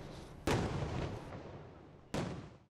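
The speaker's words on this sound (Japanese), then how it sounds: "土石流災害で亡くなった28人の犠牲者を悼む花火28発が打ち上げられ" Memorial fireworks launch at a night festival in Izusan, Atami, two loud, distant booms about a second and a half apart, each rolling off in a long echoing decay.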